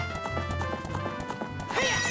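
Horse hooves galloping in the video game Zelda: Ocarina of Time, a quick rhythmic clip-clop under game music, ending in a brief whinny-like sound near the end.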